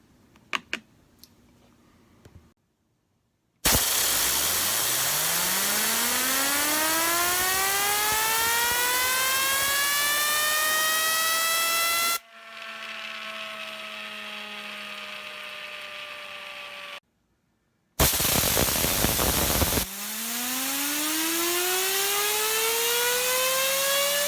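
An Invader Drone fidget spinner by MPF Designs spins with a loud, steady whir. Each spin's pitch slowly falls as it winds down, and it is set spinning several times with brief silences between.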